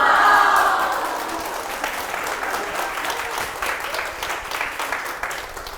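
A live audience applauds during a voice actor's lecture on a TV talk show, a dense wash of clapping that starts loud and tapers slightly while staying steady to the end.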